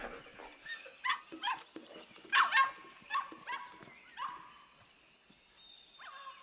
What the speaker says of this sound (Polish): Uciekaj, ty paskudny kundlu!